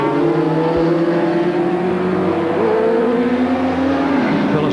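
A superbike racing motorcycle at a 1989 Oran Park race roars past the commentary position, a loud, sustained high-revving engine drone with shifting pitch and other bikes audible behind it.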